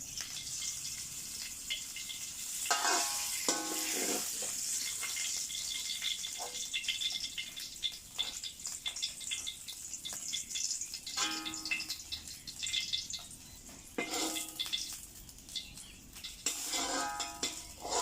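Pork being fried in oil in a pan, a steady close sizzle with occasional stirring scrapes and bursts of louder crackle, no talking.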